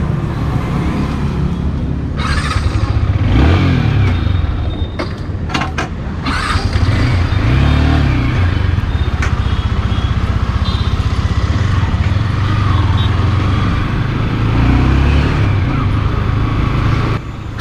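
A 2023 Yamaha R15S V3 motorcycle engine starts and rumbles continuously at close range, revving and rolling along a road, with a few sharp clicks early on and no talk.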